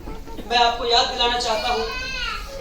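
A child cries with rising, wavering wails over a noisy room of other young voices at a school's annual function, fairly close and loud.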